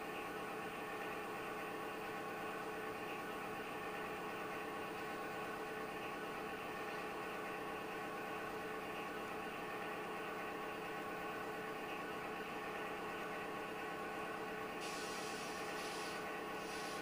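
Model train locomotive shoving a cut of freight cars along track on a layout, a steady continuous rolling hum with faint mechanical whine, fairly loud and unbroken with no talking.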